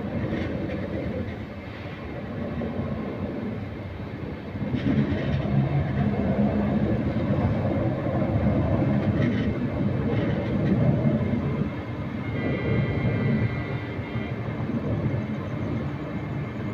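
Cheran Express passenger train on a nonstop run of about 120 km between stations, a steady loud rumble of wheels and carriage noise throughout, swelling slightly midway with faint rattles and clanks.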